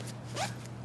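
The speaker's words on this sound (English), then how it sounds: "zip it up on either side" A Peak Design packing cube is zipped closed in one quick, close zipper pull lasting under a second, with a steady low hum underneath.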